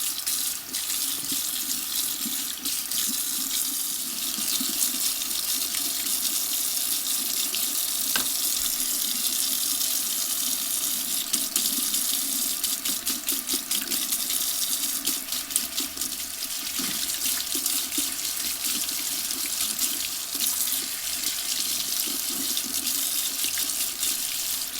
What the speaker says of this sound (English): Also rinsing the acid solution off in the process.